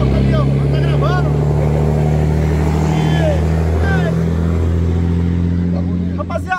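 A truck passes close by during dynamometer work on a homemade 70 mm engine, its loud low engine drone running steady throughout, with a voice speaking over it briefly.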